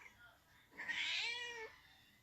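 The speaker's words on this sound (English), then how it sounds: "my cat is over here talking to me." A house cat lets out one drawn-out, rising-and-falling meow, fairly close and clear over a quiet room, lasting about a second.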